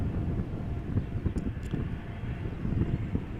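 United Airlines Boeing 777-200 taxiing far off at Amsterdam Schiphol Airport, a low, distant engine rumble mixed with wind buffeting on the microphone, steady and fairly quiet with no talking.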